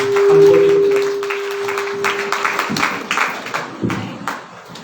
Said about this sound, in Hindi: आइए ताली बजाकर इस महान परमेश्वर की गवाही के लिए